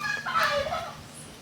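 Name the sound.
chickens clucking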